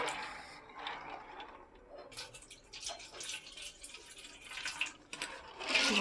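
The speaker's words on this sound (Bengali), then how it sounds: "দেখো জল দিয়ে দিচ্ছি।" Water poured into a cooking pot holding soaked peas, an uneven splashing and trickling stream with drips, close by and moderately loud, with no talk over it.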